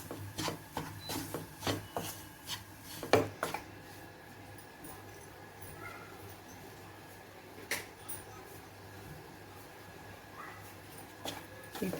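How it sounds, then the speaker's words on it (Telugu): Gram flour roasting in ghee in a pan, stirred with a series of close scraping and rubbing strokes, rhythmic at first and then sparser over a faint background, with no voices. "అప్పటి వరకు వేయించుతూ ఉండాలి కలుపుతూ"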